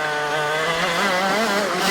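A race car flies over a corner on a racing track, its engine a loud, close, harmonic drone that climbs slightly in pitch over a couple of seconds.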